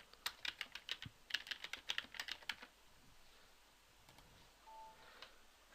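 Rapid bursts of typing on a computer keyboard, crisp close keystrokes in quick clusters that stop partway, leaving a faint quiet room with a few stray clicks.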